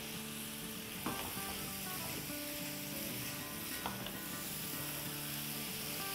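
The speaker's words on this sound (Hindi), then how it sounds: "और अब इनको अच्छे से मिला लेते हैं" Spiced goat liver with crushed chilies frying in oil in a pan, a constant crackling sizzle with occasional knocks of a spoon stirring, close up and without speech.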